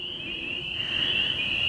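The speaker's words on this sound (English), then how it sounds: "But listen to those frogs." Frogs chorus outdoors in a steady high-pitched trilling drone that holds continuously throughout, moderately loud, with no voices over it.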